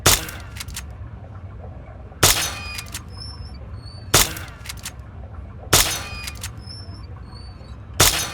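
BB gun shots in Fallout 3: five sharp, loud cracks spaced about two seconds apart, each followed by brief electronic chirps and a low game background hum.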